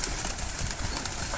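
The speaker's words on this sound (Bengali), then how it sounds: "এই যে কবুতর" Pigeons on a village farm coo softly and briefly against a hissy outdoor background.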